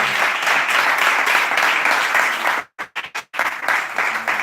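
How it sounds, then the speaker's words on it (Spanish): A crowd applauds steadily, with dense clapping that briefly cuts out in a few short gaps before resuming. "un aplauso para as 5 persoas que están vendo en directo."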